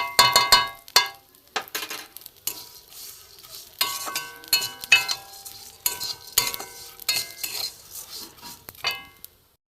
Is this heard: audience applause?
no